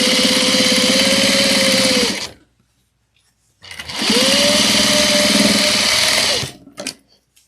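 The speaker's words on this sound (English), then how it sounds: "you're just sewing over the seam and the exterior" Sewing machine stitching along the seam of a fabric pouch, two loud steady runs of rapid mechanical whirring, each about two to three seconds long, separated by a brief pause.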